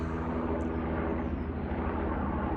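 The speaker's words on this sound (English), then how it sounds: "there's actually a helicopter flying" Steady low mechanical drone of a red helicopter passing at a distance over London, a continuous hum with a faint whine, no talking.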